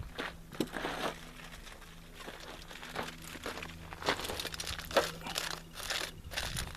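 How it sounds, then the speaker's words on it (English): A foil pack is set down on a charcoal grill at a campsite, giving soft, uneven crinkles and light scrapes of foil close by, with no talking. "we're just going to set our foil pack right in the center of that"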